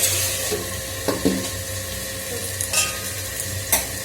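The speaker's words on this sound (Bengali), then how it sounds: "এই যে ভাজা ভাজা হলে বরবটি আলু একসাথে পেঁয়াজ সব দিয়েছি" Yardlong beans, potatoes and onion fry together in a pan, making a loud, continuous sizzle up close. Several utensil scrapes and clinks from stirring recur throughout, with no speech.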